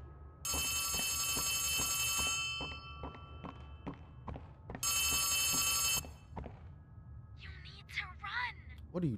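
An old telephone bell rings in two long bursts in Poppy Playtime Chapter 3, with heavy thuds and footsteps between the rings and a short burst of other game noise at the end.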